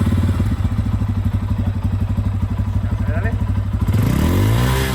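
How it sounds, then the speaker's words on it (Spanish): A Bajaj Pulsar N250 motorcycle idles with a loud, close, pulsing exhaust thump, then revs up sharply near the end; a voice speaks briefly over it. "Hoy vamos a mostrarles cómo le suena el escape a la más completa N250"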